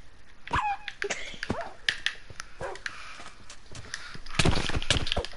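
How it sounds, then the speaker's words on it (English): Dog barking, yipping and whimpering in the Minecraft video game, several sharp barks and whines spread across the clip at moderate loudness, mixed with game sounds and a person talking over them. "Come on, doggy. Oh, this is my dog."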